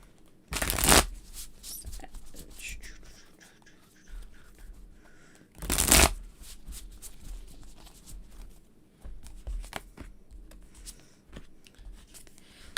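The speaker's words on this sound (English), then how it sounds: "Ooh, bad shuffle." Tarot cards are shuffled twice in quick riffling bursts, with quieter handling, tapping and card sliding between them.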